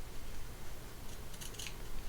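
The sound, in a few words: scissors snipping fabric notches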